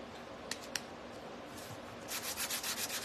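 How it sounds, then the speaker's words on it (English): Light hand sanding with 240-grit sandpaper on the bottom of a DIY lemon topiary shelf decor piece, a couple of soft taps followed by a close, rhythmic series of brisk rubbing strokes. "Just gonna sand lightly the bottom."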